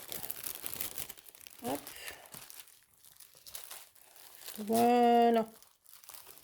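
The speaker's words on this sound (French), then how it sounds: "Un petit sachet qui se colle." A small self-adhesive plastic sachet crinkles and rustles in brief bursts as it is handled close by, with a person speaking briefly between the rustles.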